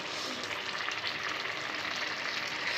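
Greens cooking in a pan with pumpkin, potato, onion, garlic and eggplant give a steady, soft, continuous frying sizzle, close by and fairly quiet, with no talking.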